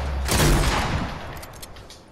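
One loud blast of a shotgun firing in a cartoonish battle-royale shooter, a sharp close boom at the start that decays over about a second into a fading tail.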